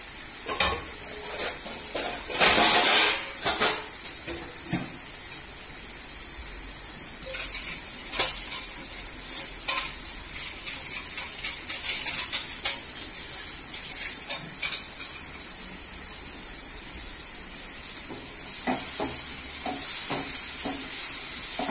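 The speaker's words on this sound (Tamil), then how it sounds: "நல்லா வதங்குற வரைக்கும் ஒரு 5 நிமிஷம் சிம்லயே வச்சு மூடி வெச்சுக்கலாம்" Taro root cooking on low heat in a pan makes a soft, steady sizzle and hiss with intermittent scraping and stirring clicks, a louder burst early on, moderately close and fairly quiet, with no voices.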